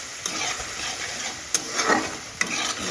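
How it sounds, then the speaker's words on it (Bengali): Spice paste of onion, ginger, cumin and chilli being sautéed and stirred in a pan for egg curry, giving a steady close sizzle with a few sharp scraping stirs, no talking. "মশলাটা কষাচ্ছি"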